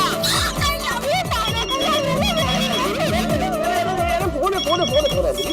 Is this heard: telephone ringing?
yes